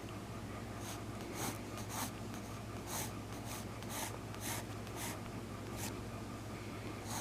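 Graphite pencil scratching across paper while an eye is sketched, a steady series of short, soft strokes in irregular rhythm, close and quiet over a low background hum, with no talking.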